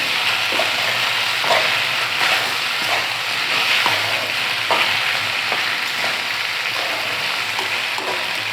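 Pasta stirred in a hot, sizzling pan, Rayalaseema style, with a continuous loud frying hiss and intermittent scraping strokes of the spoon, close up and without speech.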